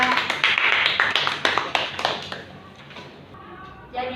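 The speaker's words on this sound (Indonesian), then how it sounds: "Tepuk tangan buat kelompok 2." A classroom of students claps for a presenting student group, with dense, fairly loud applause that gradually thins and fades over a few seconds amid light chatter.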